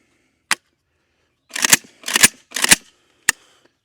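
Gunshots from a 5.56 rifle: five sharp, loud cracks, a lone shot first, then three quick reports close together and a final one, each separated by near silence.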